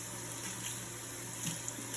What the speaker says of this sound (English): you're going to turn on your water and you're going to wet your forearms and your hands.